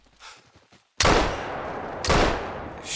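Two loud, sharp rifle shots about a second apart while hunting bison in the game theHunter Call of the Wild, each followed by a rolling echo tail, close and alone with no talking.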